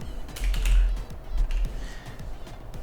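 A computer keyboard clatters as a spreadsheet formula is typed, with a quick run of close, dry key taps heard alone without talk.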